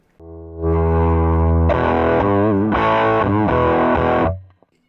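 Electric guitar with vintage-style humbucker pickups, played through a Gibson 1964 GA-5T Skylark amplifier, gives a loud, dirty, slightly muddy distorted tone: a held chord followed by several sustained strummed chords lasting about four seconds, alone.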